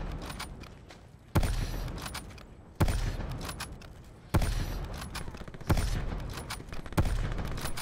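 Bursts of video game gunfire shooting through a wall, five loud sharp volleys spaced about a second and a half apart, each trailing into rattling echoes.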